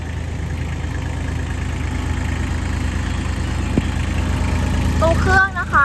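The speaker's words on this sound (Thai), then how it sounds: "ตัวเครื่องนะคะตัวนี้จะเป็นเครื่องยนต์คูโบต้า3สูบค่ะ" The Kubota three-cylinder engine of a Sakai TG25 road roller idles with a steady low rumble throughout, and a brief chirping sound comes in near the end.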